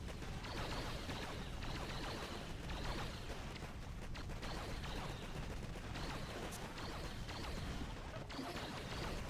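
Shock launcher weapon firing in a video game, a dense, continuous crackle of rapid bursts and impacts, loud and unbroken for the whole stretch with no talk.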